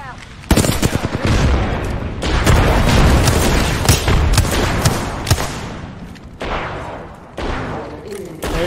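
A grenade and surrounding gunfire rip through an Apex Legends firefight, a dense loud barrage of bursts and booms lasting several seconds, with a player shouting over the action.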